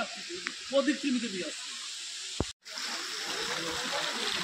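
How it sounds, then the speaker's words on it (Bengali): Water rushes steadily from a pipe near Palani waterfall in Jharkhand, making a continuous bright hiss, with a voice talking briefly early on and a short break midway. "জলটা এইভাবে আসছে, এসে এইখান থেকে নেমে ওই দেখছেন পাহাড়ের কোল থেকে ওই দিকে চলে যাচ্ছে।"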